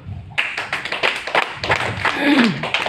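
An audience at a company presentation breaks into clapping, a burst of many hands with distinct claps audible, close and lively, while a voice sounds briefly underneath.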